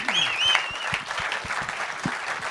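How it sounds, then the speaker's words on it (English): An audience claps for a panel of speakers, a lively rattle of many hands with a few sharp individual claps standing out, plus a brief whoop or whistle near the start. "Let's give our panelists a round of applause."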